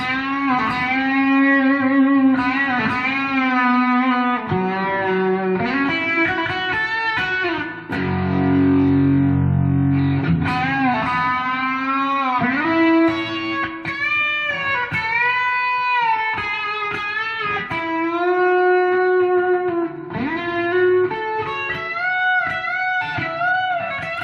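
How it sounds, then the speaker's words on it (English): A fuzz-distorted electric guitar plays sustained notes and chords through a Fender Deluxe Reverb amp, thick and saturated, with a brief lower chugging passage midway. "we've got a deluxe reverb with a fuzz this time"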